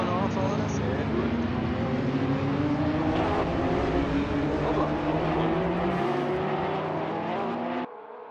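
Race cars in the Rothus Trophy final race of 2022 drone past in a continuous engine roar with rising pitch as they accelerate, steady and fairly distant, then fade sharply at the end.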